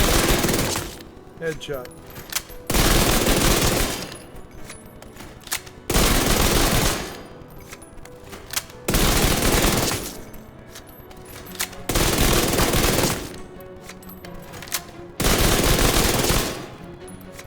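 Vector submachine gun in Division 2 firing in long, loud full-auto bursts of about two seconds each, separated by short pauses, with a voice speaking briefly between bursts.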